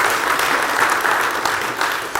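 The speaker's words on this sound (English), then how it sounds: "that deserves a clap" A talk audience breaks into applause, an even, continuous patter of many hands clapping at close range with no voices over it.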